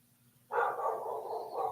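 A dog barks in the background of an online call, one sustained, muffled bark or yelp lasting over a second, moderately loud and alone without talk.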